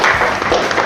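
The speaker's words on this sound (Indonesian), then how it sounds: "Boleh tepuk tangan buat Ica." Students applauding a classmate in a classroom, a brief burst of dense, fairly close clapping.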